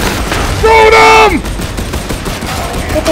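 Gunfire in the video game Warhammer 40000 Darktide, with a loud burst of shots and a rising whine near the start, then fainter crackling combat noise. A voice talks over part of it.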